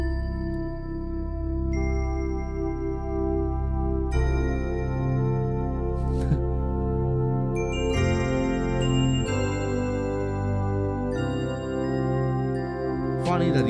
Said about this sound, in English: the Roland D50, a keyboard synth that will define the sound of the later 80s and the early